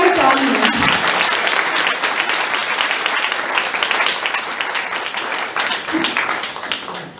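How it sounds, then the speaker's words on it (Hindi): A loud, hearty round of applause from the audience at a Diwali program in Santacruz West, dense clapping close up that runs for several seconds and slowly thins, with a few voices underneath. "और एक जोरदार ताली।"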